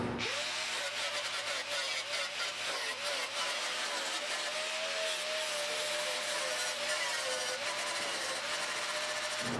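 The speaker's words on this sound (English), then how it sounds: "So now I can just grind the welds and move to something else." A power grinder works steadily over fresh welds on the sill of a 1972 Triumph GT6, a loud, continuous whining grind that holds from start to finish with no talk.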